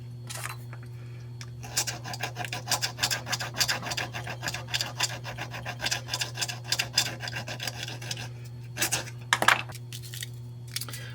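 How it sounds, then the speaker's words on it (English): Repeated rasping strokes of a rounded metal file scraping back and forth against a small copper ring, close up, with a steady low hum underneath. "I need a file that's got a rounded section on it"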